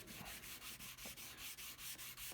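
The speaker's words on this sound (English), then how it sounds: "So let's continue sanding" Rhythmic wet sanding strokes rubbing back and forth over a guitar headstock, steady and close, about a dozen even passes with no talking.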